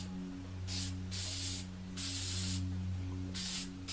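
A spray can applying gray paint gives four short hissing bursts of varying length, close and fairly quiet, over a low steady background hum.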